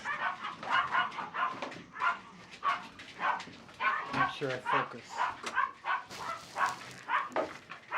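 Dogs bark, yip and whimper repeatedly at a survival bunker, sounding at moderate distance while someone speaks over them.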